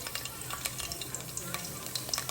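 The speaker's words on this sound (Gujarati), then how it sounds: "એમાં આપણે બે પાવરા તેલ નાખી દઈશું ચલો આપણે એમાં લસણ નાખી દઈશું" Garlic fries in oil in a pan on a gas stove, producing a steady, close hissing sizzle with light crackles and small pops throughout, with no talking.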